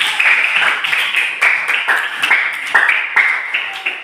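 Applause for a winning classroom group, a small crowd clapping at moderate level with a few louder bursts standing out over the steady patter for about four seconds.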